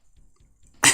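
A single harsh cough at close range from someone with a cold whose chest is nearing bronchitis, bursting out suddenly after a quiet pause.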